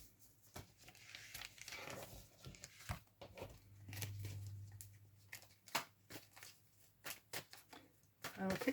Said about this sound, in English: I'll quick shuffle here